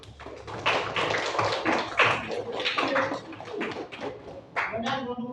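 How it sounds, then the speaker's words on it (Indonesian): A group of students applauds a presenting group in a classroom, with bursts of hand clapping and tapping mixed with loud voices talking over it. "Beri aplaus untuk kelompok 1"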